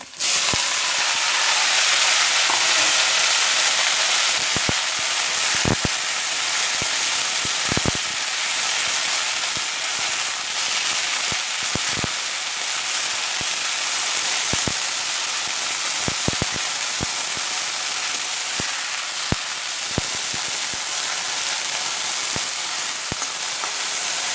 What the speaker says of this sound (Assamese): তাৰপাছত এতিয়া মই ধুই লোৱা শেৱালি ফুলখিনি ইয়াত দি দিম।